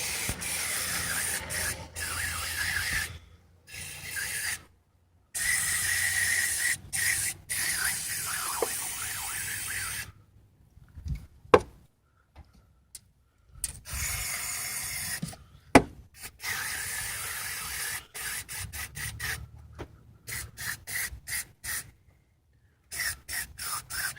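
Aerosol cleaner sprayed onto a Nissan KA24E mass airflow sensor in an engine bay shielded with cardboard and rags, heard as repeated hissing bursts of varying length separated by short silences, close and fairly loud.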